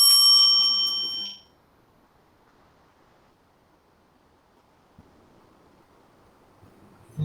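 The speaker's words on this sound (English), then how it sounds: "That's the 7-minute bell." A single bright bell rings out loud at the start as the seven-minute time warning at an international business case competition, fading over about a second and a half into quiet room tone.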